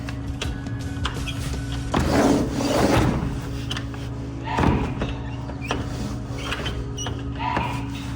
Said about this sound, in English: this door is a little funky